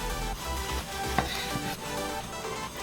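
A knife slices the top off a tomato with one short, crisp cut near the middle, set against a faint steady room hum.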